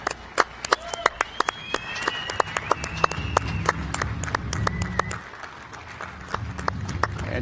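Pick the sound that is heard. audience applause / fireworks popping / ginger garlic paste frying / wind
audience applause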